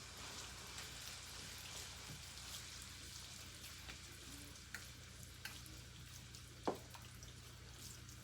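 Tomatoes and seasonings get stirred in a cooking pot, a faint, steady simmering hiss broken by small scraping and clinking taps and one sharper knock near the end, with no voices.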